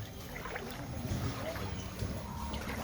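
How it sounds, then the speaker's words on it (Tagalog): Boat moving through rising floodwater in a residential street during flooding in Panabo City, Davao del Norte, a steady low churning wash of water and motor rumble, continuous and moderately close. "Ayan, may bangka."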